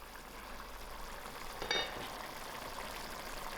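Spicy lamb stew boils in a lidded pot on a stove, making a steady, soft bubbling hiss with one brief louder burst partway through.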